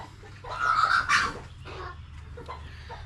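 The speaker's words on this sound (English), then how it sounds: "Lemon, this is how a chicken acts when its best friend is the Lord" A homestead chicken clucks close by, a short burst of a few loud clucks early on, then quieter scratchy murmurs against a low background hum.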